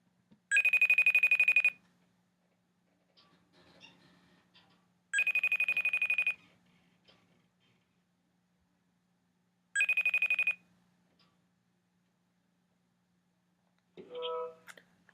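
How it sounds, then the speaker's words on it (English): A FaceTime call rings out in three separate ringtone bursts, each about a second long, spaced several seconds apart over a faint background hum, followed by a short click at the end. "I'll FaceTime him."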